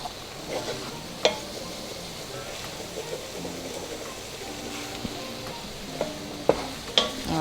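A flour roux cooks and is stirred in a pot for beef neck bones, giving a steady soft sizzle with scattered scraping clicks from the spoon, close and moderately quiet, with no one talking.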